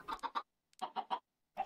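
Chicken clucking in the video game Minecraft: three quick clucks, a pause, three more, then another pair after a longer gap, close and clear with no talk.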